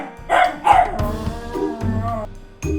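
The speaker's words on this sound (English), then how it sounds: "Now we want to see a video of a real dog." A dog barks and yips close by, a few sharp, loud barks mixed with whining, whimpering tones.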